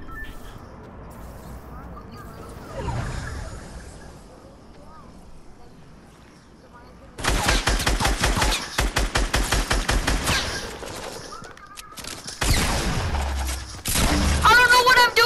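Rapid bursts of automatic gunfire from the Fortnite video game come in loud, dense volleys, with a brief gap between them, after a stretch of quieter game sound and voices near the start.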